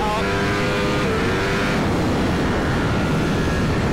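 A Ducati V4S motorcycle, a category N write-off being test ridden, accelerates hard at full throttle with a loud, continuous roaring engine note rising in pitch close to the rider, wind noise mixed in.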